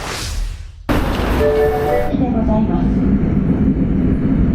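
An Osaka Metro subway train at the northern end of the line, a loud steady rumble with brief tonal whines from the wheels and motors, heard close up from a platform or car, with a voice faintly present.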